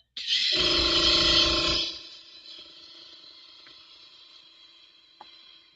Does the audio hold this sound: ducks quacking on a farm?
no